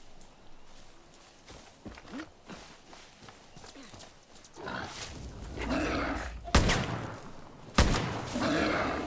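Gunfire in the video game Far Cry New Dawn: two sharp, loud shots ring out late in the clip over rustling movement and footsteps in the game world.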